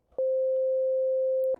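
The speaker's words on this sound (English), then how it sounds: "that's a sine wave because that's the waveform I selected" A sine wave oscillator on the Sylenth synthesizer holds a single pure, steady tone at constant loudness for over a second, starting and stopping cleanly with faint clicks at each end, no talk.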